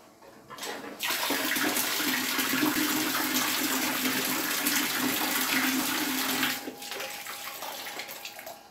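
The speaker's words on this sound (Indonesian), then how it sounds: "apakah pompa akan menjadi otomatis nyala pada saat keran dibuka" Water gushes from an open tap over a steady mechanical hum of a small water pump with a pressure switch, running for several seconds before the flow cuts back down.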